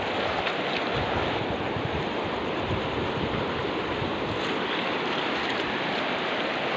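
Swollen, flooding Jhimruk River in Nepal rushing past, a loud, dense, unbroken roar of churning water heard close up, steady throughout with no voices.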